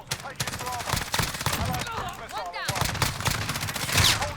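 Gunfire in Call of Duty: Modern Warfare, a rapid rattle of repeated shots in bursts over several seconds, close and sharp, with a player talking throughout.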